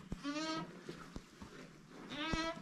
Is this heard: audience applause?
no